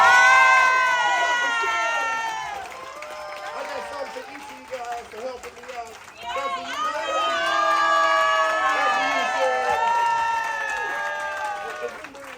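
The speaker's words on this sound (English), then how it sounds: "Y'all give him a round of applause." Audience at a Punchliner comedy club aboard the Carnival Radiance cruise ship cheers and applauds a comedian, loud and sustained for the whole stretch, with shouting voices mixed into the crowd noise.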